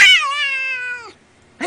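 A single drawn-out cat meow, loud and close, sliding down in pitch over about a second before stopping, then a short burst of another sound at the end.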